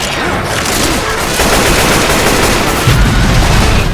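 Rapid automatic gunfire from a zombie shooting video game in the Left 4 Dead style, a loud, sustained fusillade of overlapping shots with heavier booming hits toward the end.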